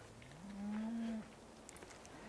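A single long, loud cow moo from the video game Farming Simulator 2013 carries steadily for under a second, then fades, with faint game ambience around it.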